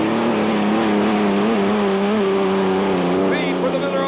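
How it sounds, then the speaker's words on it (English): Two unlimited hydroplane race boats, the Miller American and the Squire, run down the main straightaway at the 1986 Tri-Cities race, giving a loud, steady, high engine drone that rises slightly in pitch over a few seconds. "Here come the two boats now down the main straightaway."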